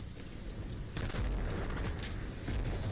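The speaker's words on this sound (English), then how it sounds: "Frag out." A frag grenade detonates in the battle royale shooter Apex Legends, a deep booming blast with rumbling low end that swells and lingers under continuous game noise, without speech.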